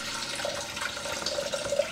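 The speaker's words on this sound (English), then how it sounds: "we're going to add in the amount of water that we need" Distilled water pours into a container while soap is being made, a steady trickling splash that swells and gurgles toward the end, heard alone at moderate volume.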